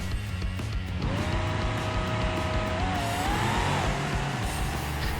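A supercharged V8 Gavril D-Series truck in BeamNG on a drag run with its default setup and no nitrous, driving a 4-speed automatic, engine droning steadily as its pitch climbs and shifts.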